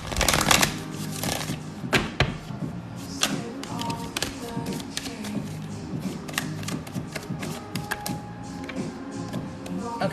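A deck of tarot cards is shuffled by hand, producing repeated crisp riffling and soft slaps with occasional thumps, close and fairly loud for about ten seconds.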